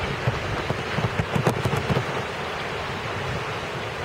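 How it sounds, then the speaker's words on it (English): Heavy rain from Tropical Storm Irene pouring down steadily in Boston, a dense, even hiss with some close patters, and no talk. "the rains are getting stronger"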